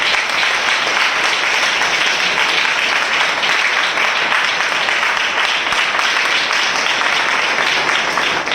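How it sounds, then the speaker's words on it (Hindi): Loud, dense applause from a large audience at a church spiritual gathering welcoming listeners, steady and unbroken throughout with no voices over it. "हम जोरदार तालियों से उनका स्वागत करें।"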